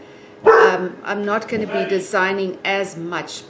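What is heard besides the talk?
dogs barking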